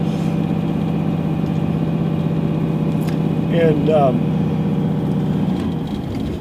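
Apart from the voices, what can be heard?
Dodge Ram 3500 Cummins 12-valve turbo-diesel engine running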